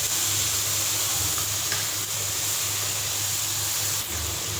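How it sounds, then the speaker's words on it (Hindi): Spices with ground coriander frying for bhindi gosht, a steady close sizzling hiss that keeps on with no break and no talk. "इससे आप लोगों ने मसाले को भून लेना है।"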